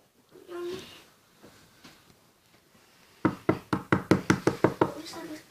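A quick burst of about a dozen sharp knocks on a door, close and loud, following quiet murmured talk and faint movement.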